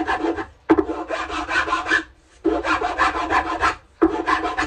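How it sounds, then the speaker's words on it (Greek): A fine file rasps across the wood of a handmade Greek bouzouki in three long, steady scraping strokes, close and clear, with short pauses between them. "θέλει λίγο σιγά σιγά μια πιο λεπτή λίμα ή με γυαλόχαρτο"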